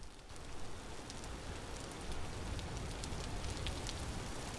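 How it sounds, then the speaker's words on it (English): Steady rainfall in the Vintage Story game, a continuous dense patter with scattered brighter droplet ticks, even and moderately loud throughout with no voices. "Why is there rain coming through?"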